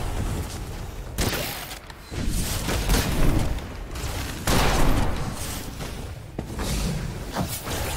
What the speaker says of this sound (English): So on the automatic explosion that happens when it gets too big, the range is 12 meters.